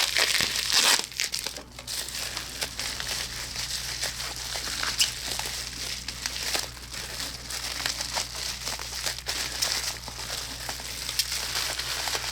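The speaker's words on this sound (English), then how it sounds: "Taking off this plastic wrap here." Plastic wrap is cut and peeled off a well-packed parcel that also holds bubble wrap, giving a steady close crinkling and crackling that runs throughout with brief louder rustles and no talk.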